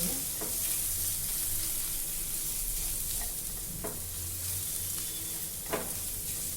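Green chilies and bay leaves frying in oil in a pan for a dry guar bean dish, a steady close sizzle with occasional scrape-and-stir sounds as the pieces are tossed.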